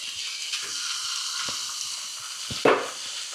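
Bacon and mince sizzle in a pan over medium heat, a steady bright hiss with scattered pops and a louder crackling burst near the end, with no voices.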